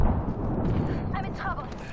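A frag grenade goes off in a video game, a dense, rumbling low-frequency blast that fills the moment with steady roar, while short tonal game sounds flicker over it.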